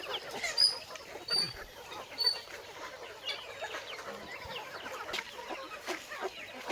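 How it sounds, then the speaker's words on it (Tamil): Country chickens clucking and calling over a steady outdoor background on a farm, with scattered bird chirps; the clucks come in short irregular bursts, moderately near. "எல்லா சைடுமே இருக்குது கோழி."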